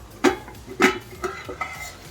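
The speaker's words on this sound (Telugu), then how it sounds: "ఇప్పుడు నీళ్ళన్నీ ఎగిరిపోయే వరకు ఫ్రై చేసుకుందాం" Prawn curry frying in oil in a pot as its water cooks off, with a few loud clanks of a spoon against the pan over a soft background hiss.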